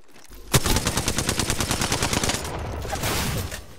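Rapid automatic gunfire in Apex Legends opens with a sharp loud shot, then runs as a steady burst of closely spaced cracks for about two seconds before a noisy rumbling tail; no talking.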